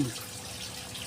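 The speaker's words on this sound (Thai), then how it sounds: "น้ำไหล" Flowing water in a calm outdoor nature spot with fish, a steady soft trickling wash heard alone at low level, with no talk.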